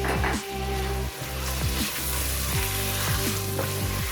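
Mutton frying in a pan with added tomatoes and green chillies for yakhni pulao, giving a steady close sizzle with stirring scrapes and no talk.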